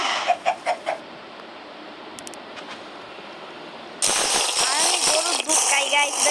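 Chickens in the Minecraft video game give a few short clucks near the start, then a quiet stretch before louder game sounds and voices take over.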